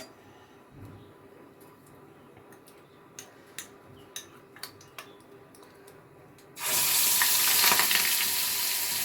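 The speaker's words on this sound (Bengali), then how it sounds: "এবার এটা তেলের মধ্যে ভাজা হবে।" Prawn kebabs with a bay leaf go into hot oil. Scattered light clicks and taps from the pan come first, then a sudden loud, steady sizzle of frying takes over and holds to the end.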